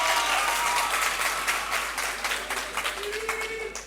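A crowd at a high school quiz competition applauds with dense, steady clapping that tapers off slightly toward the end; a faint voice may be heard underneath.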